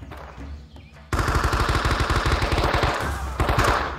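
Automatic rifle fire in the Men of Valor Vietnam-era shooter, with an M14 among the weapons: a sudden, loud, close burst of rapid, evenly spaced shots that runs continuously for about three seconds.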